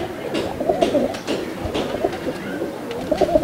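Highflyer pigeons cooing nearby, repeated soft throaty coos overlapping in a steady loft chorus, moderately loud.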